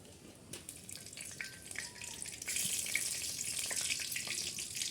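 Hot oil crackles and hisses steadily in a heated wok-style pan (kadai), growing louder and denser partway through, with a few small clinks.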